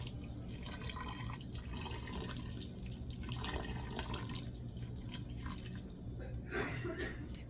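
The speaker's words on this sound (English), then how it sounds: "I'm going to go ahead and add enough water to pretty much cover the chicken now." Tap water runs steadily into a cooking pot to cover chicken for chicken corn soup, a soft continuous splashing and trickling heard alone at low volume.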